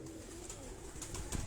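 Cross-bred pigeons coo softly in a low, murmuring run, faint and fairly steady with a slight swell near the end.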